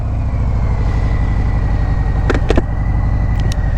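A 2019 Harley-Davidson Sport Glide motorcycle engine runs at a steady, deep low rumble, close and loud throughout, with a few brief clicks near the end and no voice.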